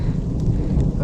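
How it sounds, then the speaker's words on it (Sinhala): Thunder rumbles over a Wangedigala campsite as light drizzle falls, a low, steady roll filling the short stretch with no voices. "ඔයාලට ඇහෙනවද අකුණු සද්දේ?"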